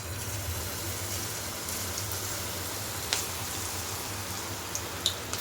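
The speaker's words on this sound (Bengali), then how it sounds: "ঝড় বৃষ্টির আওয়াজটা ভালোই আসছে" Heavy storm rain pours down as a continuous, dense hiss, with a few sharp clicks and taps near the end and no talking.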